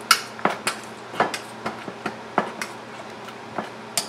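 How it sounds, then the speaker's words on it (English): Boiled vegetables for pav bhaji curry are mashed in a pan, with a series of irregular dull knocks and thuds from the masher striking the pan, close and fairly loud with no talk. "this is how you have to mash all the boiled veggies"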